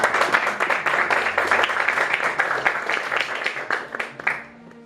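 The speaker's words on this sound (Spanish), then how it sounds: "Denle un aplauso fuerte a Señor" A church congregation applauds the Lord during a sermon, dense steady clapping filling the room and holding loud for several seconds before fading out quickly at the end, with a faint voice underneath.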